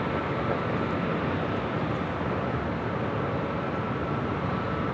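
Jet airliner on Flight 6 from Taipei arriving at LAX, a steady broadband engine roar held loud and close for the whole stretch with no talk over it.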